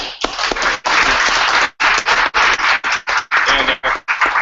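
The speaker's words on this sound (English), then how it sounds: "everybody give a quick round of applause for the sponsor" An audience at an evening JavaScript meetup gives a round of applause, dense bursts of clapping with brief gaps, loud and close, no voices over it.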